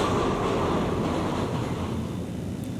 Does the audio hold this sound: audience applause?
no